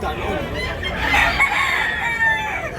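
Roosters crow one after another among clucking fowl at a Tabunok, Cebu chicken market, a long close crow carrying over faint voices in the background.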